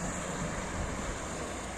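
Small, gentle waves lap along a calm beach at Kỳ Xuân, Hà Tĩnh, a soft continuous wash with wind noise, close and even in level.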